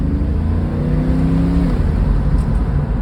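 A 1984 Mercedes-Benz 380 SL pulls away from a stoplight under partial throttle, its engine note rising in pitch then settling into a steady, loud drone heard from inside the car.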